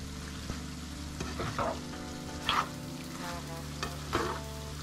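Chicken simmering in a pan for vinegar spicy chicken sizzles steadily while a spoon stirs it in several short scraping bursts, close and fairly loud, with no talking.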